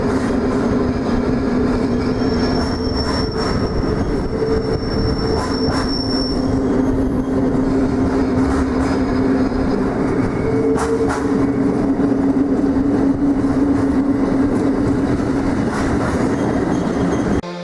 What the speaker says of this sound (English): Train running in the middle of the road.